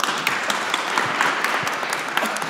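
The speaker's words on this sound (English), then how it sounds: "big applause" An audience at a university alumni session gives a speaker a big round of applause, dense and steady clapping from many hands at moderate loudness.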